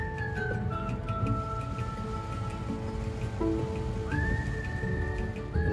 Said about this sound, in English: We got a little bit of rain today, but that's okay.